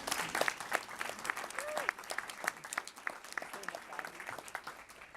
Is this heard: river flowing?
no